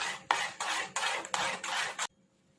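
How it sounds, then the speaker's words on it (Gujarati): A spoon stirs poha dhokla batter with soda and water in a dish, five rhythmic scraping strokes, close and crisp, before stopping abruptly. "હવે એમાં સોડા એડ કરીશું પાંચ ચમચી જેવો થોડું પાણી એડ કરીશું અને મિક્સ કરી લઈશું"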